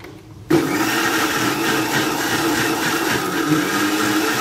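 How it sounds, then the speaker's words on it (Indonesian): A kitchen blender grinds mint leaves into pudina chutney, starting abruptly after a brief quiet moment and then whirring loudly and steadily at close range. "boleh kisar sehingga pudina ini semua"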